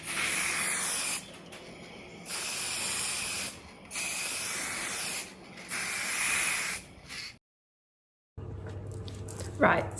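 Gold Dulux Duramatte Bright Finish spray paint hisses out in four steady bursts of about a second each with short gaps between them, then a pause and some faint handling noise.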